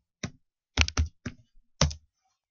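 Keys on a computer keyboard are pressed in a few short bursts of crisp clicks while a new password is entered, close and clear in an otherwise silent room.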